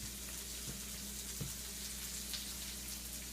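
Stir-fry ingredients searing in a wok, a faint, steady sizzle with a couple of light clicks, under a constant low background hum.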